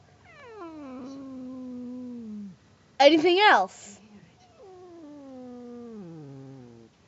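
A cat nearby lets out long, wavering meows and a harsh, strained caterwaul in the middle, with a pause between calls. A person speaks briefly.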